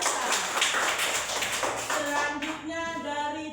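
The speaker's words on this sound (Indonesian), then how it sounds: "Tepuk tangan dulu untuk Atlan." Schoolchildren in a classroom clap for a classmate, a rapid burst of many hands at close range that fades out toward the end as a voice rises.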